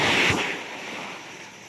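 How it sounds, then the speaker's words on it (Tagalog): Loud, strong ocean surf washing in with a broad rushing roar that slowly fades as the wave recedes, with no voices. "malakas na naman yung"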